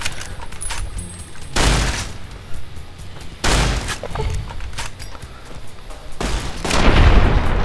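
Gunfire in a Fallout: New Vegas firefight comes as three loud, heavy bursts spaced a couple of seconds apart, each a booming blast with low rumble between.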